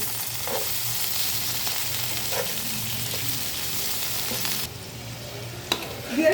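Pointed gourd (potol) and boiled potato with raw onion fry lightly over medium heat, giving a steady close sizzle with scattered spatula scrapes that drops off near the end, followed by a brief clatter.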